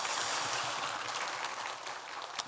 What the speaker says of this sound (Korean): 다시 한번 우리 두 분에게 우리 박수 한번 해 주시면 감사하겠습니다.